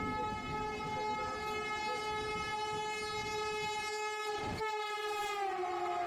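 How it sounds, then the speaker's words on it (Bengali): A Bardhaman local train pulls into a station platform near Kolkata, its loud sustained horn sounding steadily over the rumble of the rolling carriages. "আপ বর্ধমান লোকাল 4 নম্বর প্ল্যাটফর্মে আসছে"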